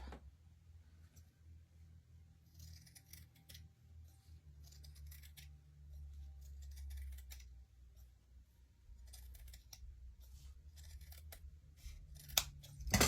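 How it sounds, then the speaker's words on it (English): Scissors cut through felt for a snowman hat in a series of quiet, close snips, crisp and fairly faint over a low hum, with no talking. "Then you're going to want to cut out the center."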